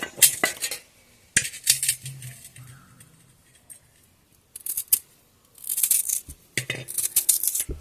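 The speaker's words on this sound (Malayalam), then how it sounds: "അപ്പോൾ ഇനി ഇത് നമുക്ക് ചെറുതാക്കി നുറുക്കിയെടുക്കാം" Home-grown arrowroot is chopped into small pieces with a knife, giving irregular bursts of close, crisp cutting and clattering strokes separated by quiet pauses, with no talking.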